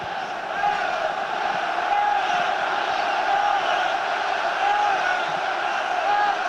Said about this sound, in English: Crowd still trying to get the lads going.